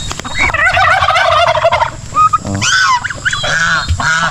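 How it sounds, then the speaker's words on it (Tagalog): Several turkeys gobble loudly and close by, rapid rippling calls overlapping one after another with no talking. "Yung mga pabo, maya-maya papakawalan natin yan."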